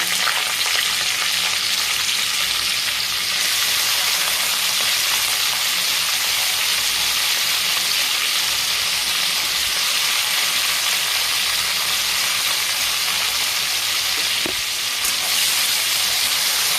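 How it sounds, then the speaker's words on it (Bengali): Bitter gourd fries in oil in a wok with a loud, continuous, even sizzle and hiss that runs unbroken from start to finish. "কড়াতে তেল দিয়ে দিয়েছি উচ্ছেটা ভেজে নেব"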